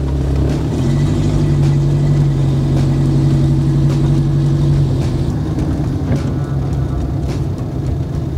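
A Renault 5 reverses after gearbox work, its engine humming at a steady, close idle-like pitch for several seconds before the tone shifts and roughens as the car moves.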